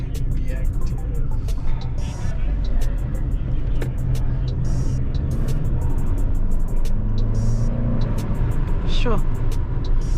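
A 2023 Chery Omoda accelerates from inside the cabin, its engine rumble building steadily over about ten seconds while people talk throughout and sharp clicks sound near the end.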